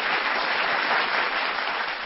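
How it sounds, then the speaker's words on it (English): A studio audience on a TV finance show applauds the guests with a brief burst of even, continuous clapping from many people, steady and unaccompanied by speech. "One round of applause for Hemant and Gajendra, please"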